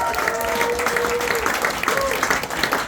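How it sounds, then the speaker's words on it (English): A comedy club crowd claps and cheers for a South African stand-up's opening act, dense steady applause filling the room with a few whoops and voices riding over it. "Please give a round of applause to my opening act"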